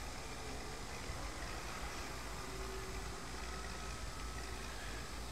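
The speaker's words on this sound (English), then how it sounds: "My four-wheel drive tractor." A four-wheel drive tractor engine in the farming video game Farm Expert 2017 runs as a steady, quiet droning rumble with no change in pitch, heard alone without any talking.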